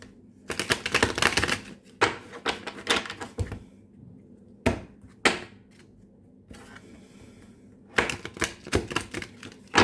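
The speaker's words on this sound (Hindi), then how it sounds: "तो चलो शफल कर लेते हैं कार्ड्स को।" A deck of tarot cards is shuffled in several rapid riffling bursts, each a close, crisp flutter of flicking cards, separated by short pauses and single taps.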